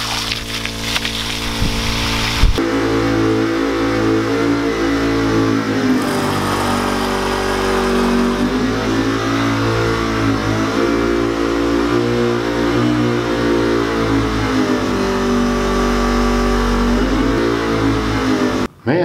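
Small engine-driven water pump running hard while pumping flooded basement water out through a hose, a loud close rumbling drone with wavering pitch and an uneven throb, continuous to the end and with no talking.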